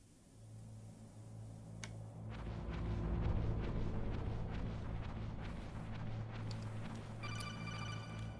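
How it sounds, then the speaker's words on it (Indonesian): A telephone rings in the Metal Gear Solid video game, a thin repeating electronic trill over a steady low hum and rumbling game ambience, fairly faint and with no talk. "ada telepon"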